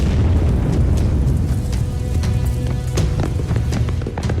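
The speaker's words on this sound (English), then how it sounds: "An explosion near the southeast corner." Explosives going off in an animated episode, a heavy rumbling boom with deep sustained low roar and scattered crackling bursts throughout, loud and alone.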